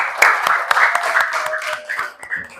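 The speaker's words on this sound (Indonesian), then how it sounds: "Tepuk tangan dong untuk kita hari ini." Children in a classroom clap their hands together, the close irregular claps joined by chattering young voices throughout.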